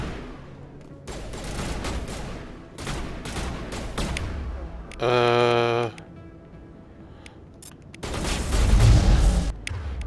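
Gunfire and a grenade explosion in a Mass Effect Legendary Edition battle, bursts of loud shots with a deep booming blast near the end, and a sharp pulsing electronic tone in the middle.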